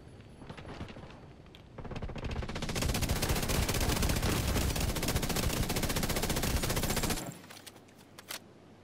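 Rapid automatic gunfire from the video game Conflict rattles in a dense sustained burst for about five seconds, loud and close, over quieter game ambience before and after.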